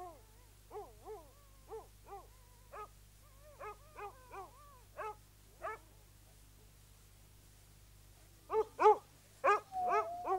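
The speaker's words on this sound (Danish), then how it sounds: "Sirius-hundene er Østgrønlands allerbedste, og de elsker at trække slæden." Sirius patrol sled dogs in East Greenland bark and yelp in a string of short, scattered calls that grow louder and denser near the end, set over a steady low hum.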